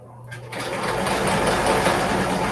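A vintage sewing machine whirs steadily and loudly after a brief start, its motor hum rising quickly and then holding an even, continuous running tone with no voices.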